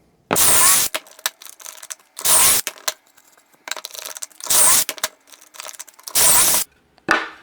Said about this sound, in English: we're gonna put pocket holes in the sides